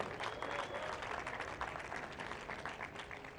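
Audience applause at a football awards gala in December, a steady dense wash of clapping from a large crowd, fairly distant and even throughout, with no clear voices over it.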